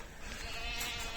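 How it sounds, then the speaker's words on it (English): Goat bleating nearby on farmland in the sand plains of Mannheim, Germany, in November, a short continuous bleat carrying over outdoor background noise, with no talk. "Sounds like sheep. Oh no, it's a goat."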